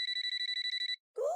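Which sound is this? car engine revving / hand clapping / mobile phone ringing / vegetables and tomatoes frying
mobile phone ringing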